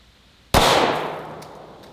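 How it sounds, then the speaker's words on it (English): A single loud shot from a Glock 20 pistol firing a 10 millimeter round at an outdoor range, a sharp blast with a ringing decay trailing off over about a second and a half. "we're shooting it out of the Glock 20"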